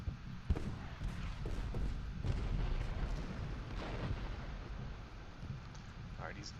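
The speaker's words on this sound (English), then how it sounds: "let's do some shelling" Artillery shelling in the Civil War strategy game Ultimate General Gettysburg: repeated booming cannon blasts and rumbling impacts roll over a dense battlefield din, with a sharp thump near the start and muffled distant volleys afterward.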